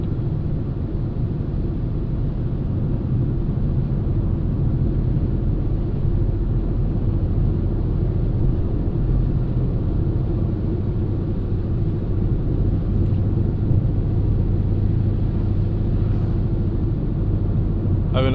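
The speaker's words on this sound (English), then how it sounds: "I think I got a wheel bearing going." Steady, low rumbling road drone inside a moving car with a possible failing wheel bearing, a constant dull hum and whir that stays level and unbroken throughout with no talk.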